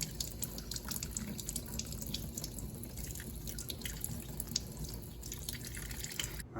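Tap water running steadily over a small faucet aerator screen to rinse off grit and hard-water buildup, a close, even splashing flow with faint drips, no voices.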